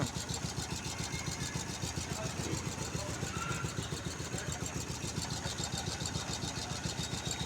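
A vehicle engine idles steadily in the street near Reddigudem after a short ride, a continuous close pulsing rumble with a regular throb running the full length without pause.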